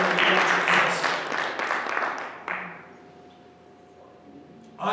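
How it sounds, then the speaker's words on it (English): A church congregation claps hands in a loud burst that fades out after a couple of seconds, leaving near silence before a brief sound at the end. "Can you clap your hands?"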